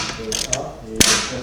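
A hand ratchet clicks while working on a fastener at the steering rack of a BMW M3 E46 pulled from a barn, several brisk metallic clicks and a sharp knock, close and fairly loud, with no talk.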